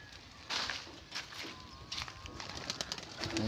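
Pigeons released from a loft's release door flutter and clap their wings in several short, faint bursts nearby, with soft coos and shuffling in between.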